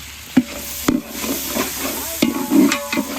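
Mutton curry with tomatoes being stirred in a pan, a spoon scraping and knocking against the metal at irregular intervals over a soft sizzle of frying, close and clear with no talking.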